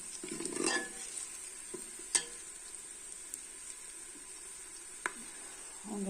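A spoon stirs and scrapes vegetable rice as it roasts in a pan, with soft sizzling and a few sharp metallic taps against the pan, faint and close with a quiet background hiss.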